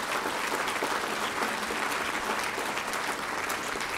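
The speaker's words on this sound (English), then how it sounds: "But just a quick applause for the task force that worked very hard." An audience at a church assembly applauds steadily, a dense, even patter of many hands clapping at moderate distance, sustained throughout without voices.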